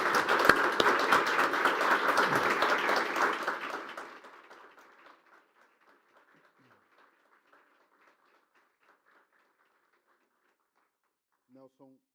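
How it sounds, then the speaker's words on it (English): An audience applauds after a talk on Traditional Chinese Medicine, a dense burst of clapping that fades out over a few seconds into scattered claps and near-silence, with a brief voice at the end. "And a round of applause for him."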